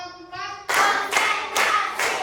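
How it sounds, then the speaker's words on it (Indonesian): A class of children clapping hands together on cue during a lesson: a brief voiced tone leads into four sharp, loud group claps spaced at an even, counted rhythm. "kita biar semangat tepuk dulu"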